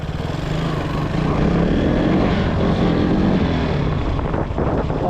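A Royal Enfield Hunter 350 motorcycle popping a wheelie gives a steady, loud single-cylinder engine drone close by, with wind buffeting the microphone and no talking.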